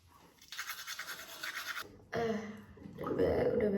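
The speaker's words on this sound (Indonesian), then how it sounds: "beres sikat gigi" Toothbrush scrubbing teeth in quick, bristly back-and-forth strokes, close and faint, in short bursts separated by pauses, followed by a brief rustle.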